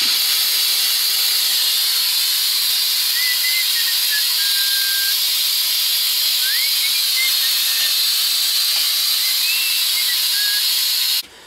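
Air compressor releasing air, a loud continuous hiss held steadily for several seconds with faint thin squeaky whistles threading through it before it cuts off abruptly.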